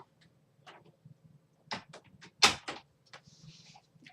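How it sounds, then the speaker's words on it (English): A door swings shut in a quiet room with a sharp thud near the middle, set among scattered light knocks and rattles, followed by a softer click and faint creak. "I'm gonna get the door, cause just for sound purposes"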